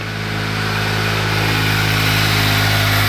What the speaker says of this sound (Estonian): mootor ja midagi kõriseb.